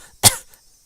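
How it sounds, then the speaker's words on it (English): A single harsh cough, close and fairly loud, from a character in the visual novel Higurashi When They Cry, with a short tail of breath afterward and no talk. "That wasn't a normal coughing sound."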